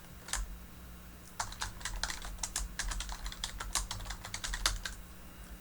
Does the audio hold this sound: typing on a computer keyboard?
yes